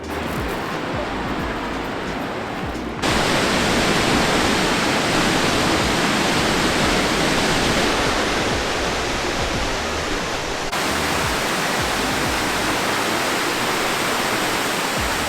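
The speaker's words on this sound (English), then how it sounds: "There's a lot less water coming down here than there is in real life." Water pours down a waterfall near Dubrovnik, Croatia, in summer when the flow is low, giving a loud, steady, unbroken rush close to the listener.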